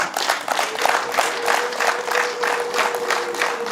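Lively crowd applause at a Rwandan wedding ceremony during the dowry presentation, dense rhythmic clapping in bursts with a faint sustained tone running underneath.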